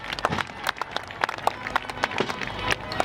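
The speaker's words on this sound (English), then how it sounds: "Give her a big round of applause" Scattered clapping from a small group at a steam fair, uneven and moderately loud, with irregular sharp claps over a busy background.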